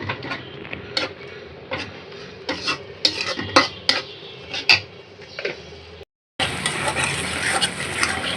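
Spices with turmeric fry in a pan while a spoon stirs them in quick scraping strokes over a crackling sizzle. After a brief silent break, a louder, continuous burst of sizzling follows.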